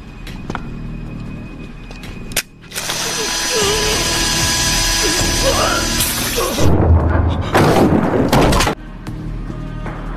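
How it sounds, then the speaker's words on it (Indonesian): A power drill whirs and ratchets in a tense action film scene set among mafia henchmen, a mechanical grinding buzz running steadily for several seconds, then breaking into louder, rougher bursts of struggle and impact noise near the end. "Lei Jun menggunakan bor untuk menghabisi salah satu anak buah bos mafia."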